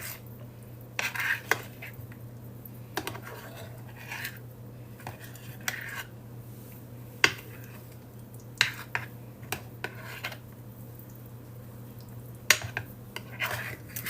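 A utensil folds butter into a Bisquick apple cobbler mixture in a bowl, giving soft scraping strokes and occasional sharp clinks against the dish over a quiet steady hum.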